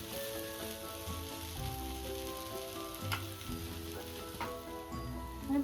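Pesarattu, a green gram dosa, sizzling loudly and steadily on a hot pan after flipping, with a few faint clinks and scrapes toward the end.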